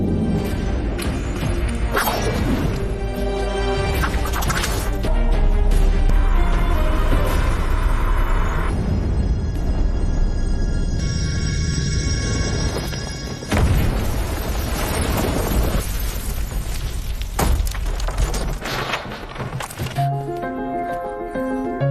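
A bomb detonates in the action film Desparado: heavy booms and shattering crashes pile into a dense, loud movie soundtrack, with bursts of debris and dramatic score filling the scene.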